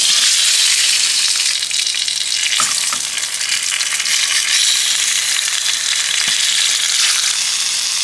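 Thinly cut carrots sautéing on a plate at a winter campsite, a loud, steady frying sizzle with a few soft clicks and scrapes, no talking.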